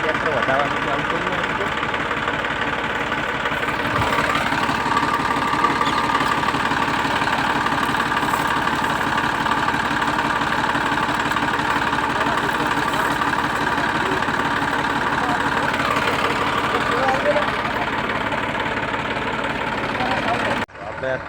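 A tractor engine idles loud and close, a steady low chugging rumble that rises in pitch briefly twice before cutting off near the end, with someone talking over it.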